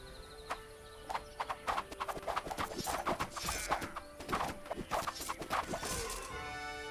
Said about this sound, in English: Let's get some horse archers